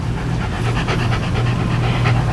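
A dog pants steadily and rapidly indoors in an apartment, the rhythmic breathy huffs close and continuous for the whole stretch, with no talking.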